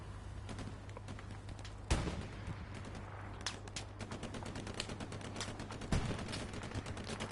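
Gunfire in the video game Hell Let Loose: scattered distant shots and rapid bursts crackle over a low hum, with two louder, closer reports standing out.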